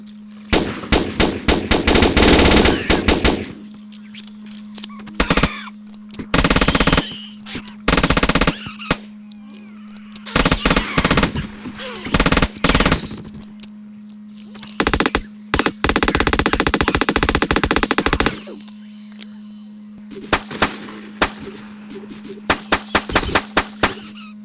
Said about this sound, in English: I don't think the slugs have too much penetration, but they're still fun to fire.